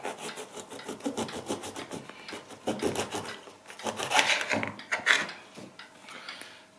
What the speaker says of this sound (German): ich werde jetzt einfach hier den Kopf abschneiden. Ungefähr 1 cm unterm Rand.